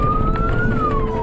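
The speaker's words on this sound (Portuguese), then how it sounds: "os motoristas ligam sirenes para alertar possíveis pedestres sobre a presença dos veículos" A vehicle siren wails on an unpaved, unlit rural road in Bolivia, its single steady tone rising slightly and then falling back over a low engine and road rumble, loud and continuous throughout.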